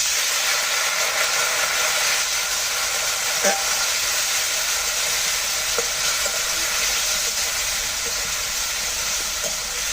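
Spice paste with turmeric and chili powder being stir-cooked in a pan after a splash of hot water, for a thin rohu fish curry with potato and eggplant; a steady loud sizzle and hiss throughout, with occasional scraping stirs.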